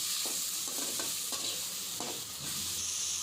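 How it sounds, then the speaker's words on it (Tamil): Tomatoes and onions sauté in a pan for rava semiya kichadi: a quiet, continuous sizzle broken by several soft knocks and scrapes as the mixture is stirred. "இப்போ தக்காளியும் வெங்காயமும் நல்லா வதங்கட்டும்."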